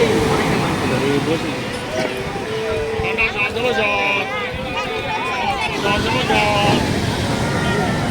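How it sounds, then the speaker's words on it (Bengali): Big sea waves surge and crash continuously on Digha beach, a loud, rolling roar mixed with wind buffeting the microphone, with voices talking over it. "অতিরিক্ত ঢেউ আসছে"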